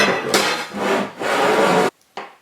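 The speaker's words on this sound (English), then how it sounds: "Use a square to mark all these." A pencil being drawn along a square to mark lines on wood, producing loud, close scratchy rubbing strokes in two long passes and a short final one.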